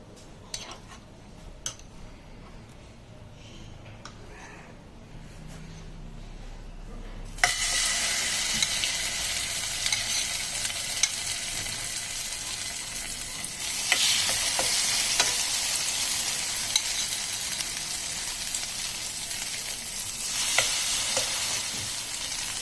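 Slices of bread soaked in milk and egg fry in a pan, with quiet clinks for the first seven seconds, then a loud steady sizzle that swells again around fourteen seconds, with occasional scraping stirs.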